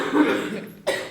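A single short cough up close, followed by a brief sharp catch of breath.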